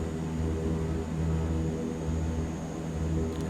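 The engines of the Super Scooper water bomber in MSFS 2024 drone steadily and loudly, a constant propeller hum with no break.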